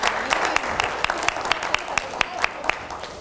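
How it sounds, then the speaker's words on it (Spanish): Church congregation applauding, a dense steady wash of claps with sharper individual hand claps standing out in a regular rhythm, fairly close and sustained throughout. "denle un aplauso al Señor"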